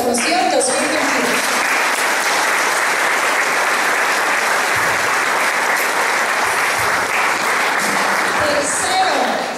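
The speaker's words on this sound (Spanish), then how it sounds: "Un aplauso para la promoción 2021." Loud, dense applause from a crowd honoring the graduating class of 2021, sustained steadily for nearly ten seconds with a few voices and cheers mixed in at the start and end.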